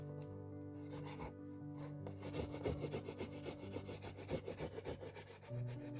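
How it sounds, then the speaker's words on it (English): A popsicle stick rubs paper down onto a journal page in quick, close scraping strokes that come faster in the second half, with a steady low tonal hum in the background. "Just making sure I'm pressing everywhere with the popsicle stick so that every part is really stuck to the paper underneath"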